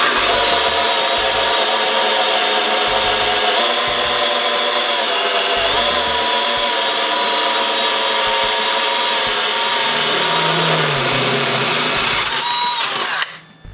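A power drill runs steadily and loudly at a high whine for about thirteen seconds, then winds down abruptly; no talking.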